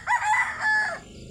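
A junglefowl rooster crows once, a short, clipped, fairly close call over faint background noise.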